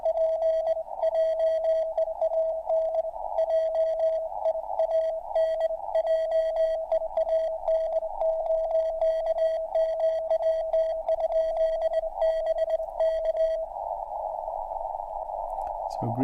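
Morse code CW tones from a ham radio receiver, a steady run of keyed beeps at one pitch ending in a longer held tone, loud and close with faint background hiss.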